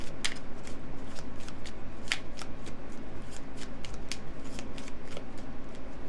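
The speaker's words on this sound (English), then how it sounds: "So let's draw you a fortune cookies card to kind of wrap up your reading." Cards from a fortune cookies deck are shuffled with a fast, rhythmic riffling and snapping that repeats steadily throughout, close and fairly loud.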